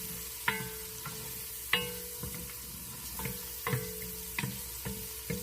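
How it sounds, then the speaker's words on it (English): Chopped green pepper stirred into homemade tomato gravy in a pan, heard as a soft continuous sizzle broken by repeated sharp spoon taps and scrapes against the pan, close up with no talking. "now I'm going to put in that 1/4 piece of the green pepper that I chopped up. Give it a stir."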